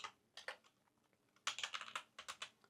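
Someone types on a computer keyboard while logging into Zabbix on Ubuntu, producing quiet, close key clicks in irregular clusters with a brief pause before a denser flurry of presses.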